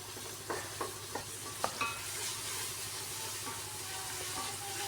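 Tomatoes sauté in a hot pan for a home-style beef curry, a few sharp scraping stirs early on, then a steady soft sizzle and faint steam hiss continuing alone at moderate volume.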